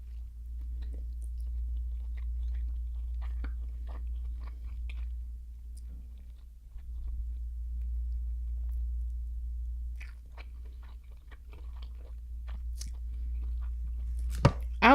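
Close, wet chewing of king crab meat from a seafood boil, steady soft mastication with occasional crunchy bites, no speech, over a low constant background hum.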